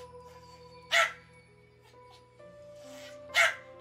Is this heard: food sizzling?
no